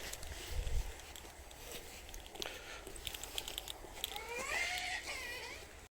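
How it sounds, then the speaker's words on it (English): Friendly cat outdoors near a bus stop in Stirling, Scotland, giving a short rising meow late on, faint against outdoor background noise and small shuffling sounds. "I've got a friendly cat here."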